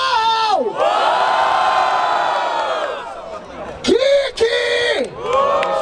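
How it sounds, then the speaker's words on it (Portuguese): A loud crowd at the Batalha da Aldeia rap battle in Barueri, São Paulo cheers, whoops and shouts continuously, with raised voices rising and falling over the roar throughout. "Barulho para as rimas do Salvagão"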